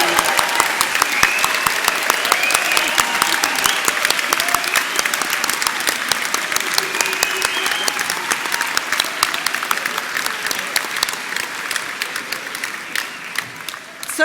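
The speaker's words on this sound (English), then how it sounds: "should we have a go at clapping and whooping?" A large audience in a hall at a university graduation ceremony claps steadily and densely for about fourteen seconds, with a few whoops and cheers mixed in. The applause stays loud and sustained throughout before tapering slightly at the end.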